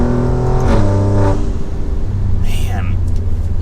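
A tuned 600 HP Alfa Romeo Giulia Quadrifoglio heard from inside the cabin, its engine droning loud and steady as pitch rises and then drops away, with road noise under it and someone talking over it.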